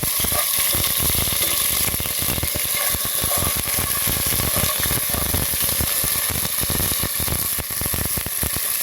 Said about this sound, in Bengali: এক চামচ আদা বাটা দিয়ে দিচ্ছি এটাকে ভালো করে আমরা ভেজে নেব